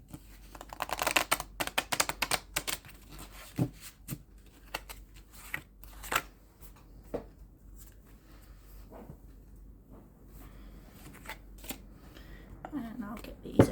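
A deck of energy cards is shuffled up close: a quick burst of riffling flutters, then scattered soft taps and handling sounds, fading to quieter rustles.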